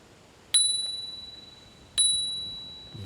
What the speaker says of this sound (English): One of the nicest bells I've ever had.